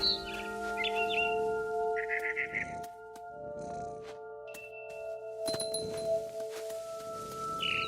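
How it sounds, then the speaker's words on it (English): A barn swallow chirps in What Remains of Edith Finch, giving a few short, bright bursts of twittering over a soft, tonal musical backdrop, with quiet pauses between calls. "Then I heard chirping outside my window. It was a barn swallow going back to her nest."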